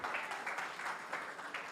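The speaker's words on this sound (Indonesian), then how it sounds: "tepuk tangan buat Tuhan kita" A church congregation applauding during a Christmas service at HOME Church Jakarta, a moderate, steady ripple of many hands clapping with no voices over it.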